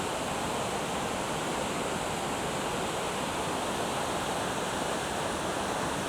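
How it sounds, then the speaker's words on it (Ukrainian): Water rushes steadily and fast down a spillway at a waterfall on Lake Tahoe, a dense continuous roar with no breaks, heard from close by. "Це якийсь водостік, вода стікає, але з великим сумом і швидко."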